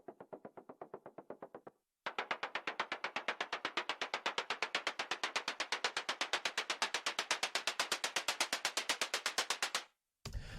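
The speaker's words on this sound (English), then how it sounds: "there's a third noise percussion" Noise percussion from a Moog modular synthesizer plays as rapid, evenly spaced ticking hits. A short run breaks off briefly, then a long, steady, louder pulse train continues before stopping abruptly.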